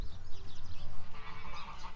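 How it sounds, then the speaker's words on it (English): A gaggle of geese on a farm honks in repeated overlapping calls, loud and close, with a busy clattering chorus and no talk. "a group of geese like this is called a gaggle of geese"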